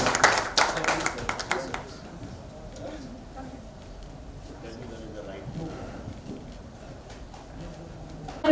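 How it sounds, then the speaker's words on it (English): Applause from an event audience at a film teaser poster launch, a dense burst of clapping in the opening two seconds that quickly thins out, leaving a murmuring hall and scattered voices. "Applause, everybody."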